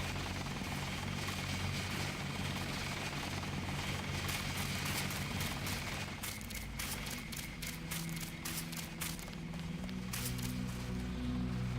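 Rotor chop from a helicopter flying in the video game Deus Ex sounds as a continuous low thrum with quick rhythmic beating, steady and moderately loud, the pulsing growing more distinct in the later part, with no voices.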